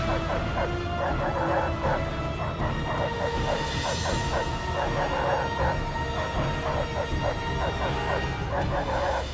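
A dog barks and yips repeatedly in quick bursts, with whimpering between, over a steady background hum.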